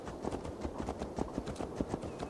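Horse hooves clip-clop at a steady trotting rhythm in Assassin's Creed Valhalla, a dozen or so close, even footfalls with faint ambient game sound beneath.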